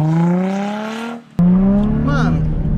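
A car drifting on a track revs hard and whines through rising and falling gear pitches, cutting off briefly before roaring back, with harsh tire squeal layered over the engine.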